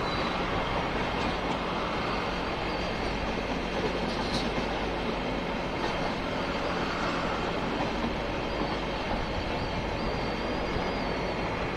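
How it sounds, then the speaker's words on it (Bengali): A train passes on a rail line on a road trip near Farakka, heading back toward Kolkata; a steady, loud rumbling roar fills the whole stretch without pause and no one talks over it. "আর এই ট্রেন যাচ্ছে, এটা আমাদের হাওড়ায় যাচ্ছে"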